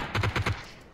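Four quick, evenly spaced gunshots from a PUBG (PlayerUnknown's Battlegrounds) firefight crack in a short burst, moderately loud, then fade into quiet game ambience.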